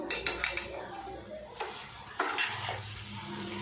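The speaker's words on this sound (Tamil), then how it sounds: "சேர்த்துட்டு இப்போ நல்லா கலந்து விட்டுருவோம்" Rava kesari being stirred after a cup of sugar goes in, with a spoon scraping and tapping against the pan in a few sharp clinks over soft, steady sizzling, close and moderately loud, with no talking.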